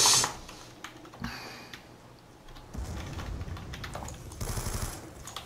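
Bursts of gunfire from a Call of Duty: Black Ops 2 free-for-all multiplayer match, with rapid clattering shots in clusters between quieter gaps.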